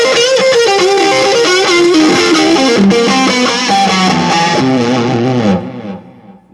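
Electric guitar lead played through a Peavey Vypyr VIP 1 amp with delay and reverb, a loud run of sustained distorted notes with echoing repeats that rings out and fades at the end.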